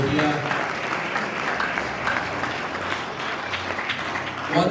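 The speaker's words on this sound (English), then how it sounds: "Please a big round of applause to Pejo and Frank who are here." An audience at a football club's 2020 season launch applauds steadily, a dense, even wash of clapping running the whole time with a voice briefly at the edges.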